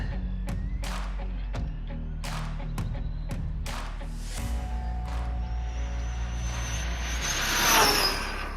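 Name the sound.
Arrma Big Rock RC car driving on 6S battery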